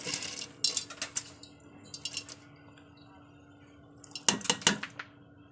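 Washed lentils tipped into a pressure cooker pot, bursts of metallic clatter and clinks in three clusters against a steady low hum, close and fairly loud.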